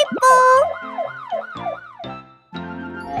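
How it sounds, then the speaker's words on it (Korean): A police car siren wails, rising and falling in repeated swoops, loud and close, with voices and other noises around it. "멋진 경찰차가 삐뽀! 도둑 잡는 용감한 경찰차가 등장했어요."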